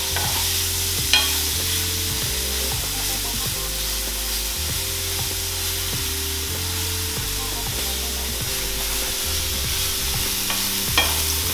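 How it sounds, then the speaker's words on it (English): Beef Wellington filling frying in a pan over medium heat as its moisture cooks off: a loud, continuous sizzle carrying a regular pulsing texture, with a couple of sharp clicks of utensil on pan. "you're just trying to fry it up a little bit and get some of that moisture out"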